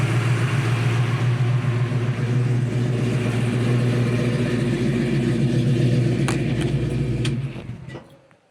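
A 1968 Ford Mustang's 390 FE big-block V8, fitted with Edelbrock aluminum heads and an upgraded Holley carburetor, rumbles at a steady, loud idle-to-cruise drone, then cuts off near the end, leaving a few faint clicks.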